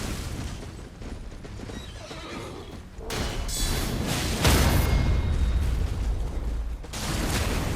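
A horse in the Elden Ring video game neighs amid game combat, with booming impacts and clattering mechanisms rising to a loud, dense burst midway.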